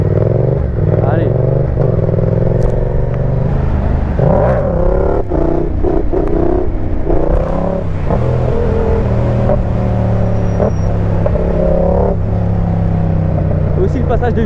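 A Yamaha Tracer MT-07 motorcycle engine revs steadily and shifts gears through a one-handed wheelie, with pitch rising and falling, close and loud throughout.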